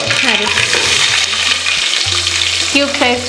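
Chopped onions dropped into hot oil already crackling with mustard seeds and cumin, a loud, steady sizzle with occasional stirring scrapes, alone with no talk.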